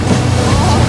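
Outboard boat engine with a freshly adjusted carburetor float bowl running steadily on open water, a continuous low drone mixed with wind buffeting the microphone and water noise throughout.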